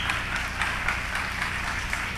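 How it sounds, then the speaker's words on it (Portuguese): An audience applauds guests at a talk event with a dense, steady patter of clapping from many hands that holds through the whole short burst. "Gente, uma salva de palmas aos nossos convidados."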